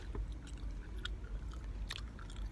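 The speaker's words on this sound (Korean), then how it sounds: "크런치." A crunchy snack with candy inside is chewed close up, with steady crunching and moist biting sounds over about two and a half seconds and no talk.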